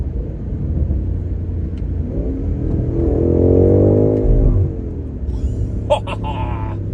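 A 2023 BMW M8 Competition's engine revs up under acceleration in the cabin, a mid-pitched growl rising in pitch through a gear, then dropping sharply at the upshift, with a voice talking over it.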